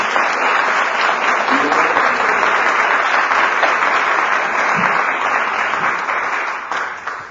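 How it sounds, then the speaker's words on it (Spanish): An audience at a science club micro-talk event in Boadilla gives a speaker loud, dense applause that holds steady for several seconds, then tapers off toward the end. "Así que un fortísimo aplauso para Álvaro."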